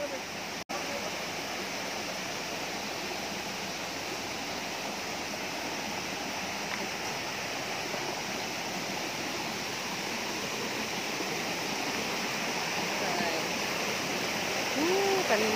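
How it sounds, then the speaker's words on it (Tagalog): Tinubdan waterfall in Cebu pours with a loud, steady roar of rushing water over a broad hiss, close and continuous throughout, with voices talking faintly over the falls. "daghan kayo nag-agas ng tubig"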